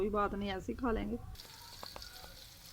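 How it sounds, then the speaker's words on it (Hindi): Spices tempering in hot oil for a rice dish in a home kitchen, a soft, steady sizzle with small crackles that follows a woman's brief speech in Hindi. "तड़का बन रहा है चावलों का"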